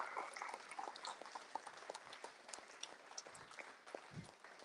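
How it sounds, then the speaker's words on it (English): Audience applause for prize winners at the NXP Cup 2025 finals in Eindhoven, a steady wash of many hands clapping at moderate distance, fairly faint and continuous with scattered sharper claps. "give them a big round of applause"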